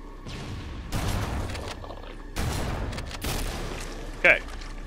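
Explosions and gunfire in the video game Halo: Combat Evolved Anniversary: two loud, broad booming bursts with rumbling tails about a second and a half apart, followed by a brief sharp crack near the end.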